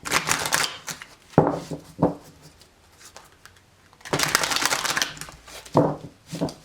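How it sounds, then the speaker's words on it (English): Bursts of card shuffling, riffles and soft slaps in several separate rounds with quiet pauses between, close and fairly loud. "A few more shuffles here for Capricorn."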